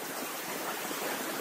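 A waterfall at Yellowstone rushes as a steady, dense roar of falling water, loud and close, with no break or talk.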